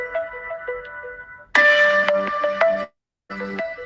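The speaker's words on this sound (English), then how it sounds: "I hate when my phone do that." A mobile phone ringtone plays loud and clear, a melodic electronic tune in repeating phrases, breaking off briefly with a short gap of silence before the melody resumes.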